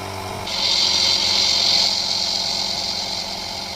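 An ALTOCRAFT portable air compressor and tire inflator runs close by, its steady mechanical whine and hum switching on and holding evenly while inflating a low-profile tire.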